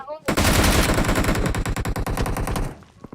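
Loud, rapid automatic gunfire from the video game PUBG Mobile rattles in a continuous string of fast, evenly spaced shots before tapering off near the end.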